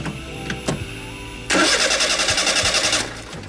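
A Honda Beat scooter engine cranks briefly with the key, then catches and runs with a fast rhythmic putter for about two seconds before dropping off.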